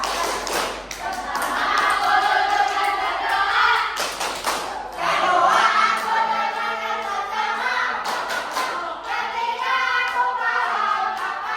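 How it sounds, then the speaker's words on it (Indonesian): Children in a classroom clap out a patterned rhythmic chant, with bursts of claps and taps alternating with their sung and spoken voices. "Tepuk adab di kelas."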